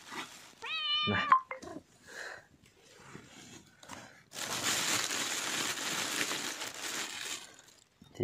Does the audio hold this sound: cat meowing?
yes